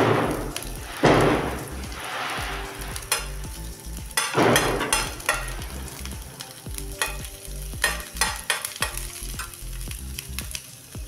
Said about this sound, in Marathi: आपण लसूण टाकून घेऊ. अद्रक टाकून घेऊ.